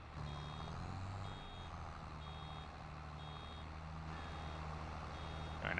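Evenly spaced reversing beeps pulse steadily from a baling vehicle in a farming video game on the Erlengrat map, over a low engine drone.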